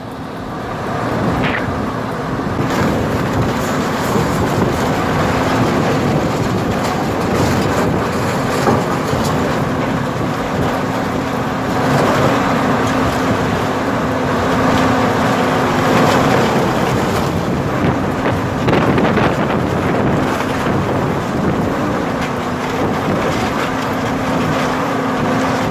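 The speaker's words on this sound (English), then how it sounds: "the shredder produces around 12 tons of recyclable material every hour" An industrial metal shredder crushes scrap in a continuous heavy mechanical roar with grinding and rumbling, loud and close throughout the long stretch, with occasional louder clanks and no speech.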